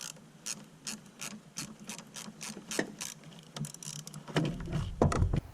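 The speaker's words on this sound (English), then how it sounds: "I'm going to use a extension number 7 socket, and without this in the way, it'll be real easy to get" A ratchet on an extension with a 7 mm socket loosens a bolt under the dash of a 1982-88 Monte Carlo or El Camino, giving a steady run of close, crisp clicks before heavier clatter of the tool near the end.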